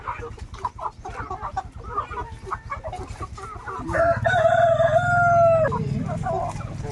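Backyard pet chickens cluck and stir close by before a rooster lets out one loud, long crow that holds steady and then breaks off, with the hens' clucking continuing under it.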